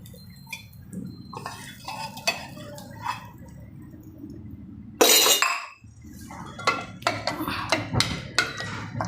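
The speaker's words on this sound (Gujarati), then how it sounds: "આ વઘાર આપણે ડાયરેક્ટ આમાં રેડી દઈશું" Metal utensils clink and scrape against a pot of dal, then a sharp sizzling splash as hot tempering is poured in, followed by more stirring clatter.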